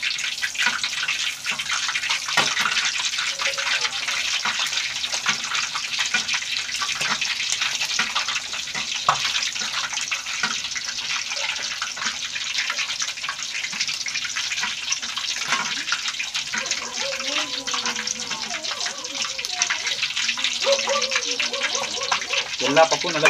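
Whole chicken deep-frying in a pan of hot oil, with oil ladled over the unfried sides, gives a steady dense sizzle and hiss throughout, with a voice talking over it toward the end.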